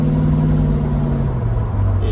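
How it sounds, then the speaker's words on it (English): A 1971 Oldsmobile Cutlass muscle car engine pulling under acceleration while driving, a steady close drone that dips as it shifts gear near the end. "Motor sounds strong."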